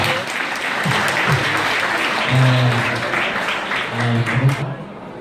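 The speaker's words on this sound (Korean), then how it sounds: "뜨거운 박수 부탁드립니다" Wedding guests give a warm, sustained round of applause in a hall, loud and close, while a voice talks over the clapping.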